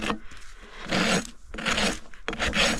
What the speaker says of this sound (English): use my rasp. This is a pretty new rasp, so it's really nice and sharp.